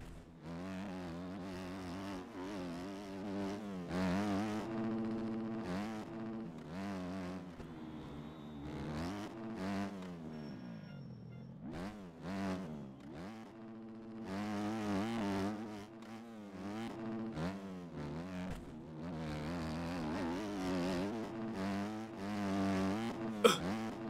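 Several motocross bike engines in MX Bikes race continuously, their pitch rising and falling with throttle and gear changes, steady and moderately loud with no talking over them.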